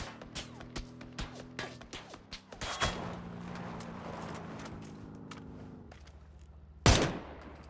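M4 rifle fire in the battle-royale game PUBG: a run of sharp, close shots early on, then one loud burst near the end, over steady game ambience.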